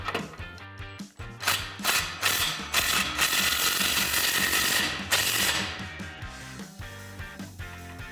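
Socket ratchet clicking repeatedly while tightening exhaust clamps on a 2015-2020 Ford F150 5.0L side-exit dual exhaust, loud, close and steady in rapid bursts for most of the span before trailing off.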